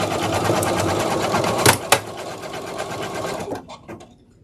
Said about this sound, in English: we're going to put the gold thread back in, and it is going to stitch out the final steps.